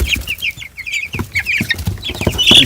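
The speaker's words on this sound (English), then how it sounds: "This chicken wants to come up on you all." A group of large chicks clucks and peeps in a brooder, with busy overlapping calls close to the microphone and some scratching and shuffling underneath.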